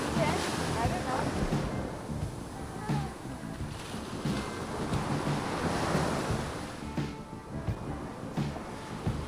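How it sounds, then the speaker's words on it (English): Surf of the Philippine Sea washing onto a beach in Zambales, Philippines, a steady broadband roar of breaking waves with wind buffeting the microphone, continuous and fairly loud with faint voices underneath. "This is the Philippine Sea, or South China Sea."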